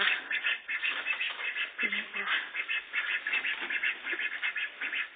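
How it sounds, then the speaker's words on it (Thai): Ducks quack and honk in a busy chorus, near and fairly loud, with voices faintly mixed in. "นี่เป็ดสองตัว"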